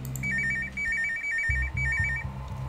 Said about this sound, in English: You look at your phone. Doesn't show who's calling. Only a blank screen. Maybe it's Chris.